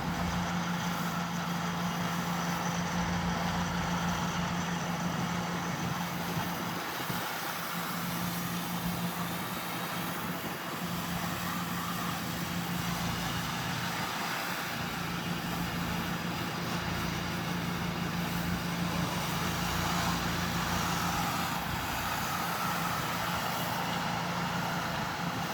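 The engine of a pressure-washing rig drones steadily and loudly while a wooden fence is rinsed, a continuous low hum with a faint spray hiss above it throughout.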